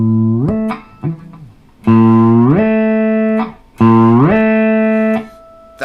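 Electric guitar through a Digitech Whammy IV pitch-shift pedal, with a few loud sustained notes that swoop up in pitch as the pedal sweeps, then hold, close and alone without speech.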